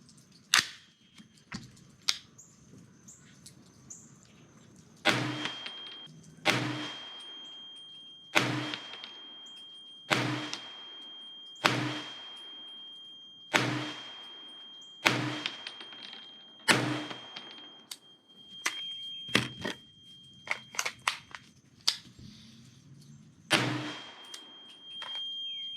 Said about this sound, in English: Okay, so there was 10 rounds, ran from a nearly full magazine